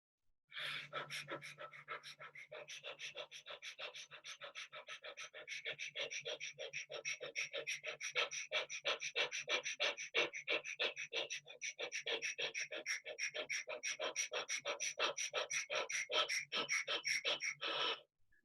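Rapid breathing exercise pushed to the point of fatigue: close, loud, fast rhythmic panting with sharp repeated breaths in a steady run, briefly pausing and resuming, and slowing slightly toward the end, with no talking.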